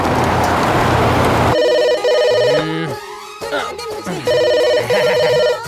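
A telephone rings in repeated electronic bursts after a loud noisy opening, with voices and other sounds mixed between the rings.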